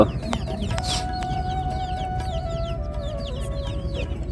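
Several chickens cluck and squawk in short bursts over a steady low background hum, fairly close by, on a Bede community boat in Bangladesh.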